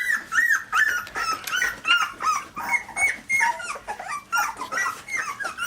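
Three-week-old Aussiedoodle puppies whimper and yip in high, insistent bursts, a near and loud chorus of overlapping cries with no speech.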